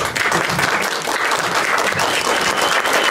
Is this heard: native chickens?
no